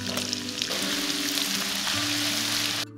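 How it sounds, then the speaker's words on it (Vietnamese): Shallots and garlic frying in butter in a pan, a loud, dense, continuous sizzle with low steady hum underneath, close up, ending abruptly, no talking. "Cho hành tỏi vào phi cho đến khi dậy mùi thơm."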